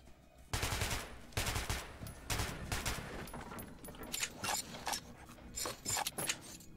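Automatic weapon fire in the video game Metro Last Light, repeated loud rapid bursts with short pauses between them, close and harsh.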